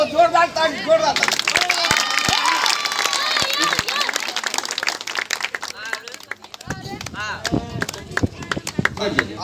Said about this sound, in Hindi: बहुत जोरदार ताली, जोरदार ताली।